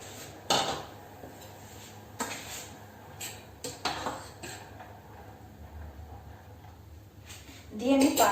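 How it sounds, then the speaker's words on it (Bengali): Dry pasta goes into a pot of hot water on a gas stove in a home kitchen, making a few separate clatters and knocks against the pot. A voice talks quietly in the background. "আমি এর মধ্যে পাস্তাটাকে দিয়ে দেব।"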